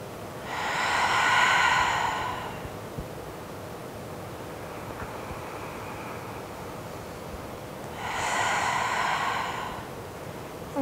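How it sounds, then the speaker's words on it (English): Slow, deep breaths during a beginners' yoga class for the lower back: two long, breathy airy exhalations close to the microphone, separated by several seconds of quiet room noise. "Just take two more breaths here."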